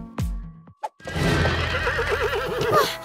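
Horse from the animated Spirit story gives a loud, quavering whinny that fills most of the clip after a few short thumps at the start, close and dominant.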